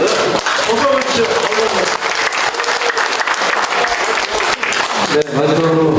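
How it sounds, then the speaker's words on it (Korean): Strong audience applause at a city press conference about a new municipal building budget, dense and loud, with voices talking and calling out over the clapping throughout. "박수 주세요."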